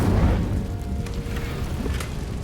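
Incendio fire spell cast in the video game Hogwarts Legacy, a loud booming whoosh of flame bursting at the start, then a fading crackling roar with small pops.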